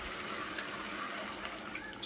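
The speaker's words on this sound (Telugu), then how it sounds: "వాటర్ వేస్తున్నాను అనమాట." Water streams into a cooking pot of raw prawns, a steady gushing pour that runs continuously at moderate loudness with no voices.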